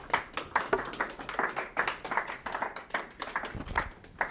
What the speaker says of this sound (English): can we get a round of applause for our contestants?